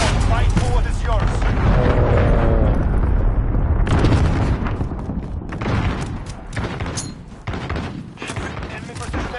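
Heavy airstrike explosions boom in a military video game, a loud sustained roar of blasts at first that breaks into scattered, sharper impacts and crackling gunfire as it fades.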